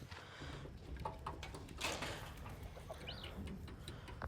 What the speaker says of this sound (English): So these are our chicks.